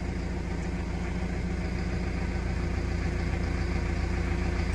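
An MTZ tractor engine idles nearby, a loud, steady low chugging rumble that continues unchanged from start to finish with no voices.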